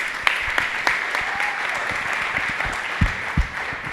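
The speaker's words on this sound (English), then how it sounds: "how about a round of applause for Ricky putting this together?" Audience applause at a live team meet-up event, a dense bed of clapping with a few louder nearby claps and thumps standing out, steady and moderately loud without speech.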